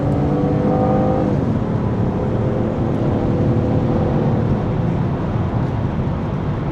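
A Chevrolet Camaro V6 of about 312 horsepower accelerates hard onto an autobahn, its engine a loud, steady, continuous roar with a low rumble heard from inside the car, and no talking.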